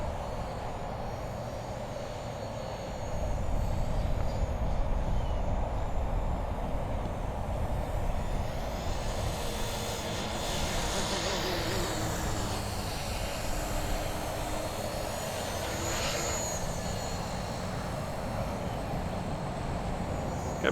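A V950 RC helicopter flying outdoors in wind, its steady buzzing rotor and motor whine rising and falling as it passes near and away, with no voices.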